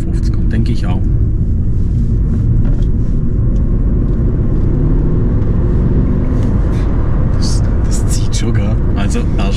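Mercedes C-Class W203 fitted with an M273 V8 and seven-speed automatic accelerating at about quarter throttle, a steady deep engine rumble and road noise heard from inside the car throughout.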